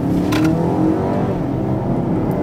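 Engine of a Geely Atlas SUV accelerating, a loud, steady rising drone with harmonic whine, heard from inside the car with no talking.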